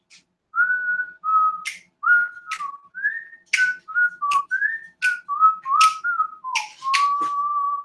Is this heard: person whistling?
yes